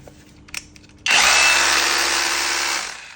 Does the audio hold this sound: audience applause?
no